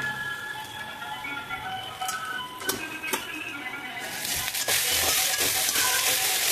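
Taro (arbi) sizzling steadily as it fries in a pan with turmeric, salt and chili, a continuous hiss that swells louder toward the end, with a few light clicks of stirring.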